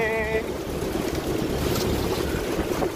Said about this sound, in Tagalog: Malalaman nyo na malalaki ang alon.